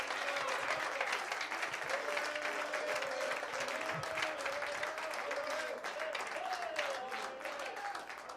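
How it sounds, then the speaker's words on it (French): A church congregation applauds, a continuous distant wash of clapping heard faintly behind a voice speaking and sustained tones from the room. "Give him a praise."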